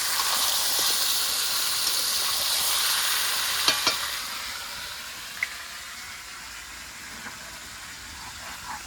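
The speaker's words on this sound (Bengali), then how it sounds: "মাছটা দিয়ে দিয়েছি, এবার নেড়ে চেড়ে কষিয়ে নেব।" Marinated pangas fish frying in a pan, a broad hissing sizzle that fades a little partway through, with a few sharp clicks from stirring, close and without speech.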